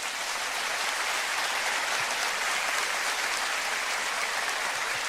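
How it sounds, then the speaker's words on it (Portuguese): A congregation breaks into sustained applause during a church sermon, a thick, even wash of many hands clapping at steady loudness from start to finish. "Uma salva de palmas."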